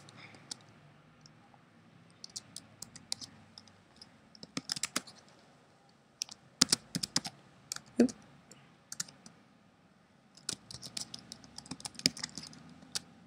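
Keys clatter in bursts on a computer keyboard as text is entered into a text box in photo-editing software, with irregular clusters of crisp clicks separated by short pauses, close and moderately loud.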